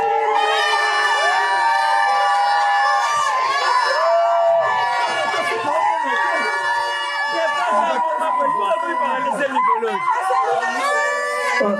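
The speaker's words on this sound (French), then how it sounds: "L'assistance, vous acclamez." Wedding guests at a civil marriage cheering, clapping and shouting together, a loud close crowd with overlapping voices and whoops throughout.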